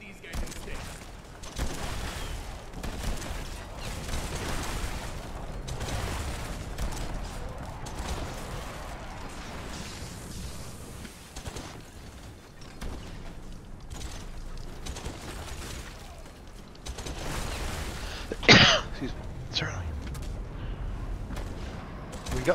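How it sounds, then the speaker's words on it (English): Incoming fire from an exploding volcano in the VR game Battlewake VR, a dense stream of rumbling blasts and booms mixed with mechanical clatter, with people talking over it throughout. "Where are these incoming coming from? Oh, from the exploding volcano."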